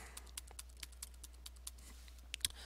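Computer keyboard keys pressed in a desktop setup, a string of quiet, sharp clicks at uneven intervals, with one louder double tap near the end, over a low steady hum.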